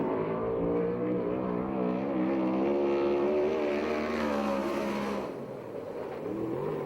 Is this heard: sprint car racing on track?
yes